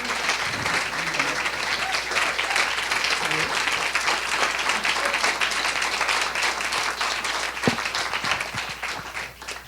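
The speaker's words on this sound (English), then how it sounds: "Wow, standing ovation before I said anything." A standing ovation for Paul Hawken as he returns to the stage: dense, sustained applause from a large audience fills the whole stretch, easing slightly at the end.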